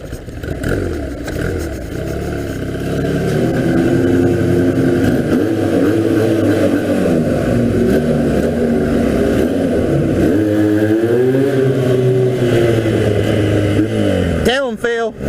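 A 1982 Honda 250cc flat track motorcycle being ridden: a loud, sustained engine drone whose pitch rises and falls with the throttle, with wind noise over it and a brief clattering burst at the very end.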